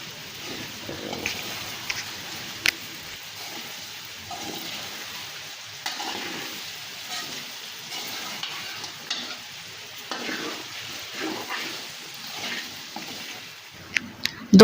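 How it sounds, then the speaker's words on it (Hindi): Taro and onion sautéing together in a pan, a steady close frying sizzle with bursts of stirring and occasional utensil clinks, continuous throughout with no talk. "और प्याज को इसके साथ मिक्स करेंगे। थोड़ा सा इसको भी सौते करेंगे।"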